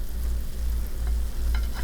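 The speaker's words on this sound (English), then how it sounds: "Listen to the sizzle." A keto pulled pork cheesy wrap fries in a preheated pan, giving a steady close crackling sizzle with a few brighter pops near the end and no one talking.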